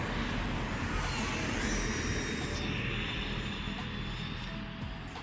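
A Rate W20 tiny drone flying at full throttle, a steady broadband whir with a high whine, fairly near and continuous before easing slightly at the end.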